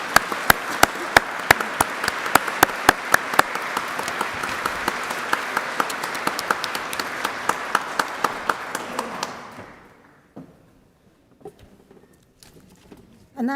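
Sustained audience applause at an awards ceremony, loud and dense with sharp individual claps on top, continuing for about nine seconds before fading out to scattered claps, a few knocks and brief murmuring.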